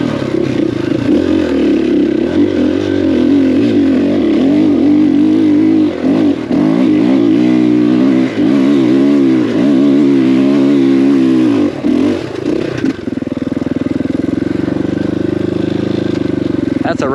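A KTM 500EXC-F dirt bike with shorty extensions is ridden on dirt in third gear. The engine is loud and close, with its pitch rising and falling as the throttle changes and some clattering through the run.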